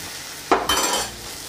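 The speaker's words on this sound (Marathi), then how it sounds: "मस्त असं हलवून घ्यायचं आहे।" Brinjal masala curry being stirred in a pan: a short scrape at the start, then a brief burst of sizzling and spoon movement that fades, with no one speaking.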